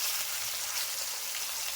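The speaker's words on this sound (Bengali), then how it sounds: "তেল গরম হয়ে গেছে, এখন আমি মাছটা ছাড়ছি।" Steady, bright sizzling of katla fish frying in hot oil, a dense continuous crackle and hiss at close range with no voices.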